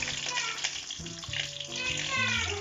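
Leafy vegetables beginning to brown in a pan for a Turkish lamb dish, giving a soft, continuous sizzle and crackle under a person talking nearby.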